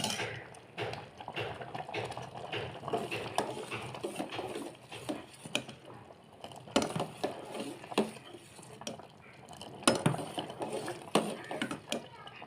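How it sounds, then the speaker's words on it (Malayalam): Semiya payasam with coconut milk and sugar being stirred in a pot, with repeated scraping and clinking of a spoon against the metal and soft liquid sloshing, fairly close, with no talking. "പഞ്ചസാരയും കൂടി ഇട്ട് ഇളക്കിയെടുക്കുകയാണ് ചെയ്യുന്നത്."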